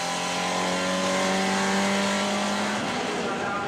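Race cars at the Zolder circuit, including a BMW, roar past in a loud, continuous engine drone with shifting pitch as they accelerate and brake into a corner; no speech.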